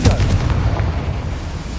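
A Confringo fire spell blast in Hogwarts Legacy, a loud booming burst at the start that rolls off into a rumbling low tail, with no talking.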